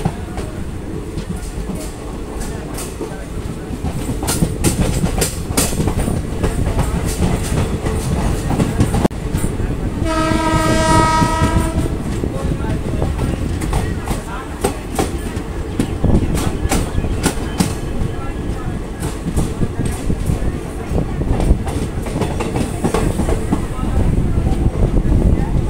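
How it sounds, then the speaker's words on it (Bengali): The Howrah Jayanagar Express rolls into Prantik station with a steady clickety-clack of wheels over joints, and a single loud horn blast sounds midway, lasting a couple of seconds before the rumbling run continues. "ট্রেন কিন্তু এখন প্রান্তিক স্টেশন ঢোকার মুখেই।"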